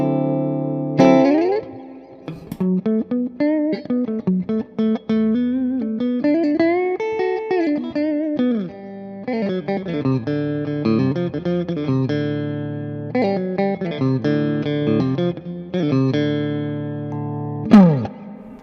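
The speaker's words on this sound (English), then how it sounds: "That's the orange, clean channel, tones pretty much at noon, just a little bit of spring reverb." Electric guitar, an Epiphone ES-339 Pro with P90 pickups, played through the clean channel of an Orange amp with tone controls at noon and a touch of spring reverb, ringing out chords and melodic runs steadily and up close, with no talking.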